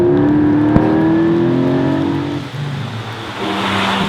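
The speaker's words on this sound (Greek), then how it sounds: "ευτυχώς τελικά έφτιαξαν αυτό το φανταστικό τετράλιτρο εξακύλινδρο boxer ατμοσφαιρικό" A Porsche 718 Cayman GT4 with a naturally aspirated four-litre flat-six boxer engine revs loudly and close, its tone rising steadily, dipping briefly, then climbing again.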